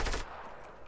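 A single loud gunshot blast from a Fortnite match cracks at the start, then fades quickly into a low ringing tail.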